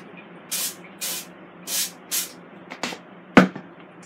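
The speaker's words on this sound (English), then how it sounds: "I'm going to spray my basket." Several short, sharp olive oil spray bursts onto an air fryer basket in an uneven rhythm, close and hissing, followed by a louder clack.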